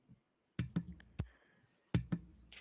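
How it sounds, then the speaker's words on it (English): Sharp mouse or button clicks come in two close pairs with a lone click between, crisp and fairly near against a quiet room, with a brief hiss of static at the very end. "You're clicking. I can hear you clicking."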